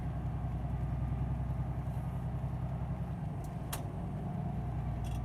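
A car passes another vehicle on a road, heard as a steady low engine and road rumble from inside a car, fairly quiet, with a faint click or two.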